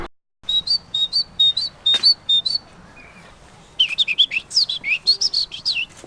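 Birds sing at dusk in an outdoor garden, with clear repeated high whistled phrases near at hand, then a quick run of trilling chirps with brief pauses between them.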